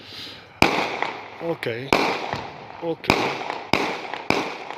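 Fireworks and firecrackers bursting on New Year night, a series of sharp loud bangs every second or so with crackling tails, a voice speaking briefly between them.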